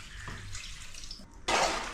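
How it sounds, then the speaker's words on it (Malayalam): Water, swirled from the masala paste container, poured into a pan of beef liver roast, a soft trickle followed by a sudden louder splashing gush near the end, close by, with no talking. "അപ്പോൾ നമ്മളൊരു ഇത്തിരി വെള്ളം ഒഴിക്കുകയാണ്, ഈ അരപ്പെല്ലാം കൂടെ കഴുകിയ വെള്ളം."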